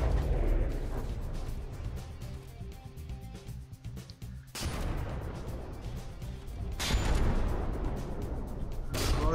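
Artillery shells firing and striking warships in the naval combat game From the Depths: repeated heavy booms and blasts of broadband noise, with rumbling and rattling between bursts, loud and close.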